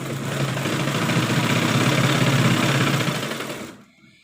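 A tailoring sewing machine, being tested after a home repair, stitches cloth with a loud, dense, rapid needle chatter close by, running continuously for several seconds before stopping abruptly.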